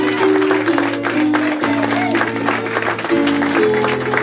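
Church congregation at a French-language service applauding and cheering, loud clapping and shouts mixed with sustained organ or keyboard chords playing underneath, a busy lively mass of sound throughout.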